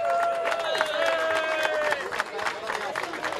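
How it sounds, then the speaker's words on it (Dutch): Crowd applause and cheering for the winner of a village bike race in Hogen, Geetbets, a steady wash of clapping with scattered whistles, fairly close and loud throughout. "maak hem aan Mark Tinnevel ook nog een applaus als eerste winnaar"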